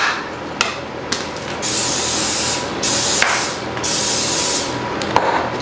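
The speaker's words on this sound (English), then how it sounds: "I think I just sprayed them just because it was easier." Cooking spray hisses onto a snack mix in three loud, sustained bursts, separated by short pauses with light clicks and rustling between them.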